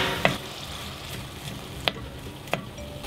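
Sweated-down onions fry in a pan for Jamaican brown stew fish, giving a steady soft sizzle broken by three sharp spits or pops spaced about a second apart, with no talking.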